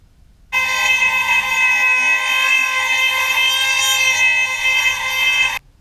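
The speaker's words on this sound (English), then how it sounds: "I'm just going to have to bore that hole out a little bit more" Power drill boring out a hole in a chassis rail on a 1970 VW camper bus, one steady loud high-pitched whine lasting about five seconds with abrupt start and stop.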